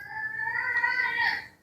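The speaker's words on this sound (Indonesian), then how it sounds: "Apa itu suara kucing?" A cat gives one drawn-out, wavering meow that rises and then fades, moderately close, heard during a religious lecture with no speech over it.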